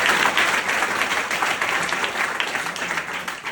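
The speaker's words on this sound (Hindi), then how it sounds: "तो एक बार जोरदार तालियां बजाएं।" Loud, dense applause from a seminar audience in Agra, a steady wash of many clapping hands that carries on for several seconds without any speech.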